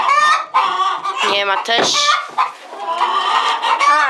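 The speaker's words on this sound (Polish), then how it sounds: "Mamy nasze kurki." Silkie hens clucking in a poultry coop, their harmonic clucks and calls steady and close throughout, with a person talking over them.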